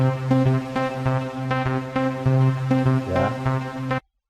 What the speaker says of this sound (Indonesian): After Midnight 1 suaranya seperti ini